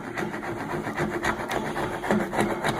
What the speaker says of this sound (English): I like to then remove the excess material. And so I scrape it